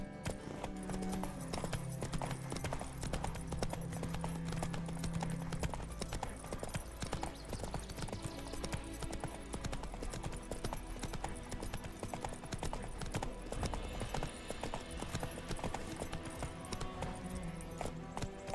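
Hooves of the horse Roach clip-clop in a steady trotting rhythm through a fantasy video game, continuous and clear over a low ambient bed with a brief whinny-like tone early on.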